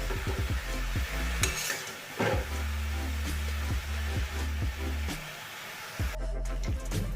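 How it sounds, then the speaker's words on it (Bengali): Gourd and shrimp curry stirred in a pan, a spoon scraping and clacking against the metal in a steady close rhythm over a faint sizzle, with a few louder knocks. "এবারে ভালো করে সব শুদ্ধ মিশিয়ে আমি ঢাকা দিয়ে দেব রান্না হওয়ার জন্য"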